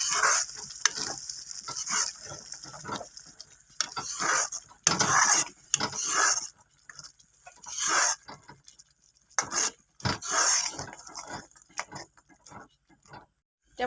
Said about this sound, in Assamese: দি আকৌ ভালকৈ মই ভাজি ল'ম।